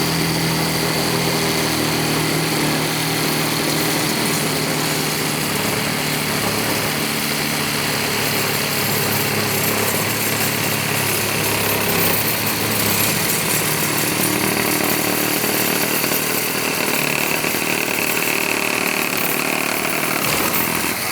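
A reciprocating saw fitted with a pruning blade cuts into a 2x4, a loud, steady, high-pitched motorized buzz and rattle running continuously without pause.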